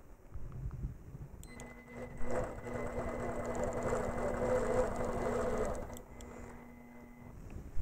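An APQS longarm quilting machine stitches under its stitch regulator, a steady close motorized hum with rapid needle chatter lasting several seconds before stopping, with faint clicks at start and end.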